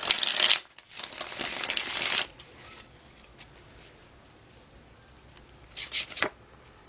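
Tarot cards are shuffled close by in quick riffling bursts, with a long crisp run at the start and a shorter flurry near the end, separated by quiet.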